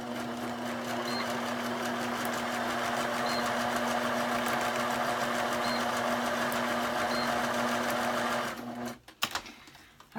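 A sewing machine runs a steady continuous seam on fabric binding for a quiet book, humming close and even for several seconds before stopping with a few handling clunks.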